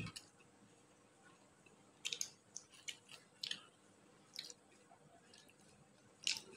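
Someone chews and eats pitha close up, giving soft, irregular wet bites and squishy chewing clicks in short bursts over a quiet background, with no talking.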